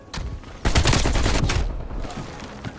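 Gunfire in Call of Duty Cold War multiplayer, with loud rifle shots cracking in quick bursts and rumbling close by, and no speech.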